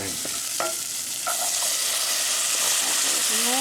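Beans hitting a hot pan for a vegan burrito, giving a loud, steady sizzle and frying hiss that keeps going after they are added, with a few faint clinks of stirring.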